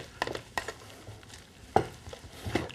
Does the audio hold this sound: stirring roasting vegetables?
yes